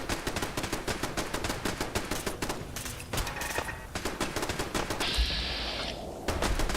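Rapid bursts of gunfire from a Fallout 4 Sim Settlements 2 battle, dense and continuous with overlapping shots throughout, fairly loud with no talk.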